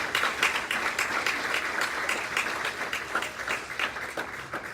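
A church congregation breaks into lively applause, a dense wash of many hands with distinct individual claps, moderately loud and continuous, easing off toward the end.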